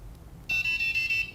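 An Arduino buzzer on a homemade board game timer sounds when time runs out, a loud, steady electronic tone pulsing in short bursts for about a second, close up, with no voices.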